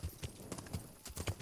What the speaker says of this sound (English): Mount up our horse. And we're going to ride out the back here.